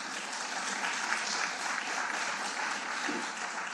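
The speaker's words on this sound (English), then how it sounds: "if you can hold your applause until the very end" Applause fills a city council meeting chamber, a steady dense clatter of many hands clapping at moderate distance throughout, with no break.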